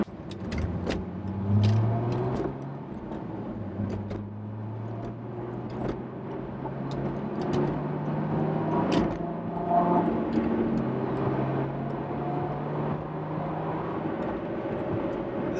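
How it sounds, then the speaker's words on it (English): A 2005 Chrysler Crossfire V6 on the road, a low growling engine hum with rising and falling pitch as it accelerates and shifts, steady cabin drone and a few faint clicks. "It has a V8 growl to it"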